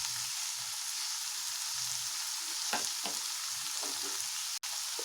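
Tomatoes and coriander powder frying in a pan, giving a continuous even sizzle with a few soft scrapes and stirs near the end.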